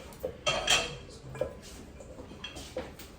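Metal pans and utensils clank and scrape in a home kitchen as a second pan is set out for oil and vegetables for healthy pad thai, several sharp close clatters in a short burst.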